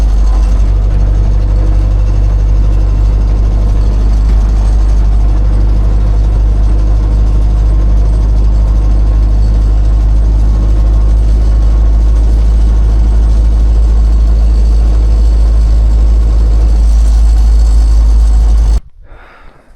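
An MTZ tractor plowing deep snow in frost, its heavy diesel engine droning loud and steady at close range with a constant low rumble, then cutting off abruptly near the end.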